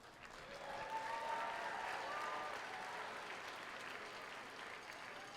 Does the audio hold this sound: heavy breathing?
no